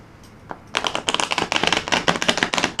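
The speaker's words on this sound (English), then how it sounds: "So I'm going to shuffle the cards" Tarot cards are shuffled close up, a few soft taps and then a dense run of quick crisp riffling flutters that continues to the end.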